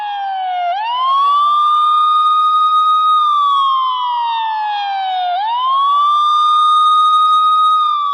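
A wailing ambulance siren sweeps slowly up and down in long rising and falling cycles, loud and steady throughout, with no other sounds around it.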